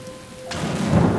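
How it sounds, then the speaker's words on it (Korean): A thunderstorm on a dark afternoon in Oslo, Norway, with steady rain and a rising rumble of thunder building over a short stretch, no voices. "번개 요란하다."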